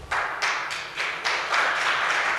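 An audience at a monk's sermon claps together in a steady rhythm, about three or four claps per second, moderately close and free of speech.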